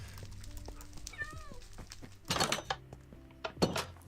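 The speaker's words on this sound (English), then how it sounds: "There's a cat over here." Cats meowing in Minecraft, a short rising-and-falling meow near the middle, quiet against a soft game backdrop, followed by clattering item and interface sounds in short bursts.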